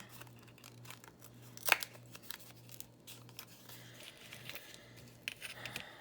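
A craft blade slices paper in quiet, faint scrapes and small rustles, with one sharper louder crackle partway through and another cluster of rough scratching near the end.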